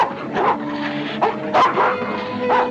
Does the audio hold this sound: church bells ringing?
no